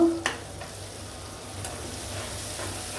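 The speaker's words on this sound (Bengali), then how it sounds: "আদা রসুন ফাটিয়ে দিব।" Ginger and garlic paste frying in hot oil for a chicken reshmi kebab and biryani, a soft steady sizzle with an initial sharp crackle and light stirring clicks.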